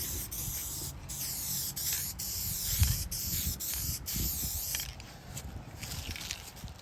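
Close aerosol spray hisses in continuous bursts as light coats go over pinball back glass. Near the end there is a short break with faint clicks.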